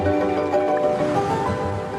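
Ocean waves wash steadily along a Philippine shore lined with mangroves, a continuous broad rush of surf and wind with no pauses, loud and close throughout.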